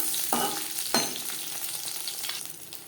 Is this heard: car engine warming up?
no